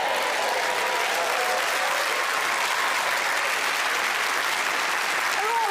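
A television studio audience at a national quiz show applauds steadily and loudly for several seconds after finishing a test, a dense continuous clatter of many hands with no talking over it.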